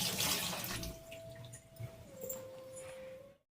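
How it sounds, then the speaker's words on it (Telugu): Water is poured into a pan of sliced onions, a splashing, trickling pour that is strongest at first, eases off and then stops abruptly, with a faint steady tone underneath. "దీనిలో ఉల్లిపాయలు మునిగే వరకు వాటర్ వేసుకోవాలి."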